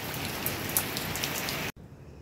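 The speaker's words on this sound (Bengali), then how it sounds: "সকাল থেকেই মুষলধারে বৃষ্টি" Heavy, relentless rain pours down steadily, a dense close hiss of drops on surfaces, broken by a sudden cut before continuing more faintly.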